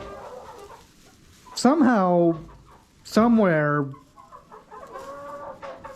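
Chickens cluck in two loud, drawn-out squawking bursts near the listener, with quieter clucking and a person speaking briefly around them.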